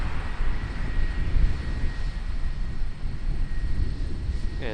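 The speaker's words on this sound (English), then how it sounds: "That A320 there from Queenstown, flight 612." An Airbus A320 airliner on flight 612 from Queenstown, heard at Auckland Airport as a steady, broad engine roar that holds at an even level throughout, with no voices.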